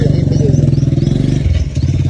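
A motorcycle engine idles close and loud with a rapid, even putter, its pulsing throb shifting slightly partway through.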